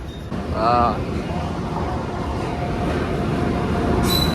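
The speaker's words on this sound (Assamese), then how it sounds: "ট্ৰেইন আহি আছে এইখন" A train rumbles steadily nearby with a low, continuous roar, a brief horn-like tone early on and a high squeal near the end.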